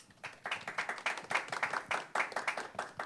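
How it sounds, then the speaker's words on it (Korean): Audience applause at a Korean voter politics festival panel on social workers, moderately close and steady, a dense patter of clapping hands lasting the whole stretch with no talk. "큰 박수 부탁드립니다."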